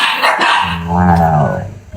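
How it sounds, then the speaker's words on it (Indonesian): A dog barks loudly and close by, giving a couple of rough, growly barks in quick succession. "Berarti yang lagi gonggong itu juga dari Kak Reni ya?"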